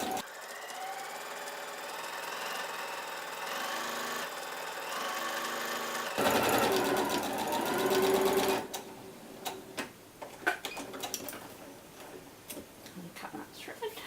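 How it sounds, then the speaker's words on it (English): A sewing machine runs steadily while stitching the side seams of an A-line reversible dress, a continuous close mechanical whir that ends around the middle, followed by quieter handling clicks and rustles. "So now we're going to go ahead and sew the side seams."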